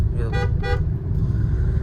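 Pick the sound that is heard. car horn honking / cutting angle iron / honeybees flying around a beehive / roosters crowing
car horn honking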